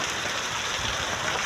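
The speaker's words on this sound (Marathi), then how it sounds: "भरपूर लागला आहे पाऊस." Heavy rain pouring down as a steady, dense hiss with no gaps, loud and close, no voices.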